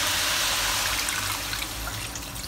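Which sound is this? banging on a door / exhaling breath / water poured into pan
water poured into pan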